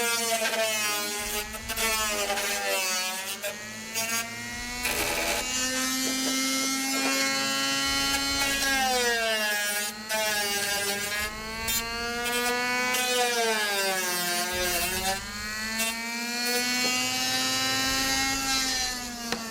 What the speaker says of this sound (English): the final touch with the sanding drum